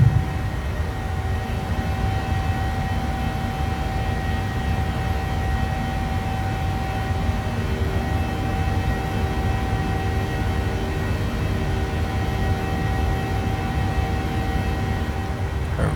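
PMDG 737-700 climbing out after takeoff from Oakland in Microsoft Flight Simulator, a steady, loud cabin-style engine drone with a constant low roar and faint tonal whine throughout, no speech.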